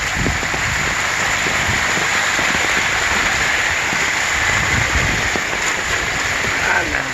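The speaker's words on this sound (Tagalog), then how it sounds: "Baha na. Overflow na nga di dapit sa tulay." Floodwater overflowing near a bridge in San Miguel during a flood, a loud, steady rushing wash that holds unbroken and close for the whole stretch, with scattered low rumbles and thuds beneath the hiss.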